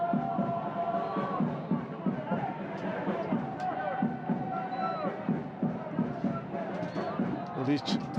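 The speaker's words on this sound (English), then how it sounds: "these fans at the moment cheering" Football fans at a Singapore Premier League match between Balestier Khalsa and Lion City Sailors make a steady crowd roar with rhythmic chanting across the stadium, while a commentator talks over it throughout.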